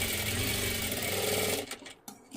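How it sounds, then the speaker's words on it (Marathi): A sewing machine stitches folded fabric for a sleeve: a close, steady rapid whirring run that stops after about a second and a half, followed by quiet handling clicks. "इथे आपल्याला शिलाई देऊन घ्यायची आहे"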